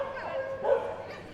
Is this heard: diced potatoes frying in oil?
no